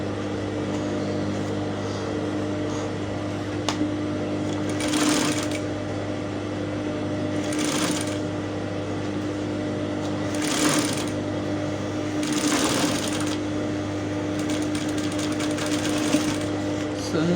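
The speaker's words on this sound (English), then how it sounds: "I'll continue sewing" A sewing machine stitches a blouse seam in a steady, close whirring hum that runs throughout, with a few louder bursts at the stitching speed and faint talk underneath.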